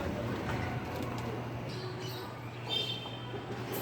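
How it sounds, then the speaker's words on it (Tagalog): Pigeons coo in a loft, low soft calls repeating steadily under a constant hum, with a few faint higher chirps mixed in. "yung aking mga kalapate"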